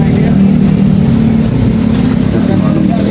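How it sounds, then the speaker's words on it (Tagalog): A tricycle engine revs continuously up close, a steady mid-pitched motor drone filling the whole stretch. "Sakay na tayo ng tricycle."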